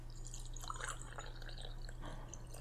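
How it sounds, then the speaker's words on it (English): A drink is poured into a glass in a quiet indoor setting, giving faint trickling and dripping liquid sounds that run steadily under a low constant hum. "I poured a drink and didn't even spill that much of it."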